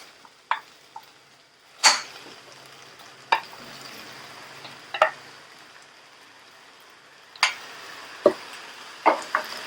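Mutton chops fry with ginger garlic paste in a pan, with a soft continuous sizzle broken by sharp spoon scrapes and knocks that repeat every second or two.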